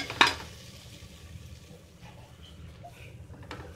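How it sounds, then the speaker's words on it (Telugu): Masala stirred with coriander powder in a frying pan for goat trotters pulusu: a single sharp spoon clink up front, then soft, low scraping and faint sizzle, quiet and close. "కొంచెం ఇది ధనియాల పొడి వేసుకొని మొత్తం కలియబెట్టి"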